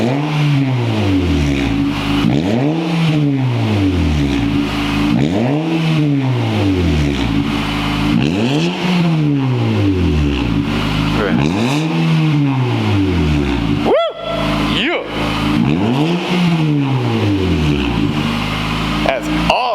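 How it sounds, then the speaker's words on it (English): A 2020 Nissan Sentra SR with a custom fabricated exhaust revs repeatedly after warming up, about six rising-and-falling throttle blips in a steady rhythm, loud and close, with a short burst of voices partway through. "he's gonna rev it up real quick now that it's all warmed up"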